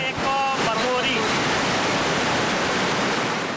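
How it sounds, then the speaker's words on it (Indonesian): Loud, continuous roar of rushing river floodwater in a flash flood, dense and unbroken, with a brief tonal sound near the start. "di tengah aliran deras banjir bandang"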